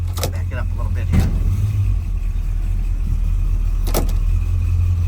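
A 1957 Plymouth Fury's engine idles with a steady low rumble as the car backs up slowly, someone talking over it in short bursts.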